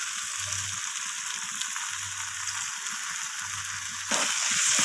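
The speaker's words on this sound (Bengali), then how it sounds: "তো আলুগুলোকে আমি কষিয়ে নিচ্ছি সব কিছুর সাথে" Pre-fried potatoes sautéed with spices, milk and cashews in a pan give a steady, close sizzle that swells louder near the end, with a faint low hum underneath and no talk.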